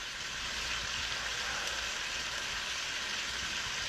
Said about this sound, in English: We get that nice little simmer going.